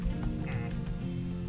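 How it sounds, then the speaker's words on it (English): A chicken in the video game Minecraft clucks in a short, soft burst of a few quick notes over quiet game ambience, with no talking. "There's a chicken making a noise."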